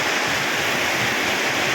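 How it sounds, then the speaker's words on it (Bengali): Heavy downpour of large raindrops during a monsoon-season storm, a steady dense roar of falling water with no gaps, close and loud, alone without voices. "বৃষ্টির ফোঁটা দেখছেন কত বড় বড় একটা বৃষ্টির ফোঁটা পড়তেছে"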